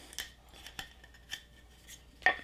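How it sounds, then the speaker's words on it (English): A chisel is struck lightly into oak, giving a few sharp, faint taps and clicks spaced irregularly. A slightly louder strike comes near the end in an otherwise quiet space. "these aren't very hard strikes at all on this oak, and I'm really getting a nice deep cut with that"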